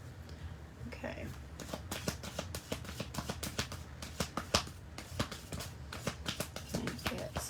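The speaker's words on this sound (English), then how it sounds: "One more shuffle." A deck of cards is shuffled repeatedly during a zodiac card reading, making quiet rapid riffling and snapping flutters in quick irregular bursts, close but soft, with a voice talking softly nearby.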